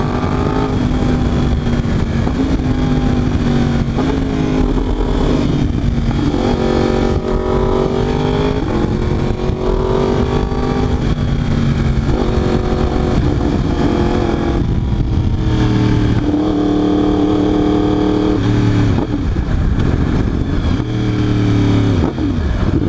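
A 2023 Yamaha R1 sport bike with a cheap aftermarket exhaust being ridden hard, engine loud and close, revving up and dropping in pitch through repeated quick-shifter downshifts and gear changes.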